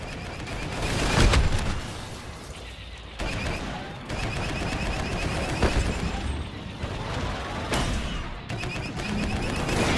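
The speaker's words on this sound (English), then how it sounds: "Ion cannons engaged." Ion cannons firing in a sci-fi video game battle, a series of loud, sharp blasts spaced irregularly across the clip over a busy, steady background of combat noise.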